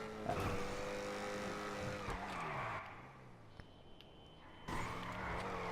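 Ocelot XA-21 sports car in a PS4 racing game, its engine droning steadily with shifting pitch as gears change, a brief tire skid midway, then the engine surging loudly again near the end.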